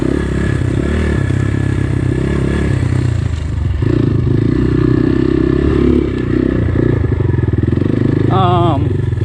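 A GPX FSE 250 E motorcycle rides over slick gravel, its engine a steady, close drone with loose clattering and scraping throughout and a brief rising tonal sweep near the end.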